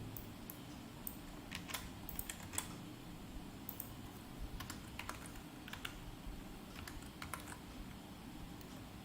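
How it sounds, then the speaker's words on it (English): Quiet, irregular clicks of typing on a computer keyboard, short bursts of keystrokes scattered over a soft background hiss, with no talking. "I am typing capital P"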